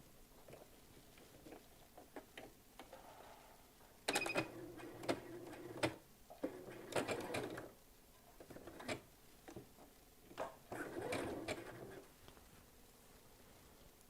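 A sewing machine stitches a notebook cover in short, quiet bursts at first, then longer steady whirring runs with brief pauses between them. No one speaks.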